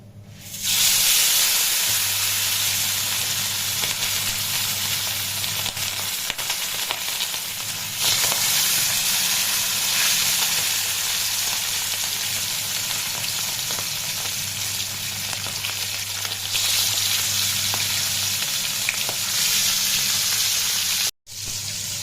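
Fish frying in a pan: a strong, continuous hissing sizzle runs close and loud with a low steady hum beneath, swelling in places, ending with a brief cut near the end; no speech.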